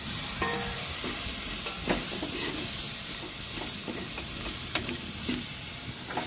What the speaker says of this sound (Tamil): சுண்டைக்காய் நல்லா வந்து வதங்கி வந்துடுச்சு.